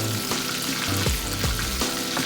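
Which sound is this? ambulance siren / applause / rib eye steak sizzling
rib eye steak sizzling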